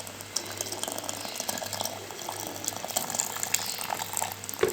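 Boiling-hot water poured from a vessel over fava beans in a cooking pot, a close, continuous splashing and gurgling stream that grows slightly fuller toward the end, over a low steady hum.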